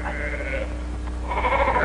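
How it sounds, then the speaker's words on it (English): Sheep bleat in a steady, wavering cry that carries through the whole moment, with a second bleat rising toward the end over a constant low hum. "No, those are sheep."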